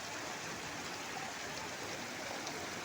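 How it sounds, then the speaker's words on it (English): Splashing water from a fountain in a corridor of the Great Mall of Qatar pours on continuously, a soft, dense, unbroken wash of falling water. "That's the blessing of the water sound, isn't it?"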